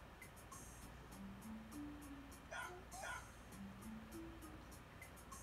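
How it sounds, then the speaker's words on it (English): A dog in the Gaokao 100 Days game gives soft yips and whimpering whines in short bursts over a quiet background, with faint chiming tones repeating behind them. "You dog, Unix."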